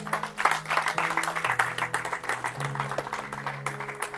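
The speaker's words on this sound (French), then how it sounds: "Est-ce que vous pouvez vous applaudir?" Congregation clapping during a church service, a dense round of applause with sharp irregular hand claps over a sustained organ or keyboard chord.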